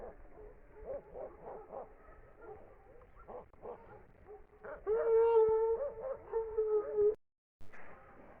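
A dog yelps and whimpers in high, wavering cries on a village cattle farm during milking, with bursts of rougher barking and rustling noises around it.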